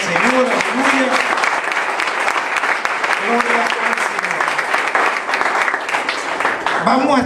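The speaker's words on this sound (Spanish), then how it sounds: "Denle un aplauso fuerte al Señor." Congregation at a church sermon clapping loudly and steadily throughout, with voices calling out over the sustained applause.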